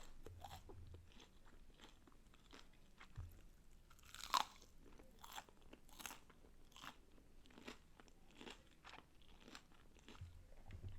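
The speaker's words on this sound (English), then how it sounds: "If you don't like chewing, I'm sorry, but I'm not, cause this shit is good." Close, crunchy bites and steady chewing of Popeyes fried chicken nuggets, with repeated crisp crackles through the stretch and one sharper, louder crunch partway in; no talking.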